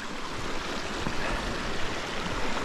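Mountain stream rushing steadily below a bridge, a good drop down from the deck, on a rocky trail descending toward Crawford Notch; continuous broadband water noise, close and fairly loud, with no voices.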